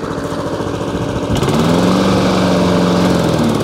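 Hayter 48 petrol lawn mower engine running on choke, a loud, close, continuous drone that rises slightly in pitch and steadies partway through, with no talk over it.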